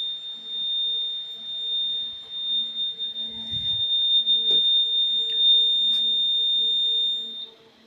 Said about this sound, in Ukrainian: у нас таймер спрацював, сигналізація звукова, все виключилось